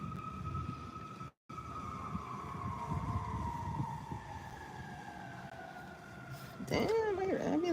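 An ambulance siren passing outdoors, a long wailing tone that slowly drops in pitch as it moves away over steady traffic noise, then a sharper, closer warbling siren near the end.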